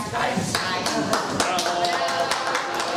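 Children applaud at the close of a school performance of a forest fairy tale play on an open day, with scattered, irregular claps filling the room and voices audible beneath.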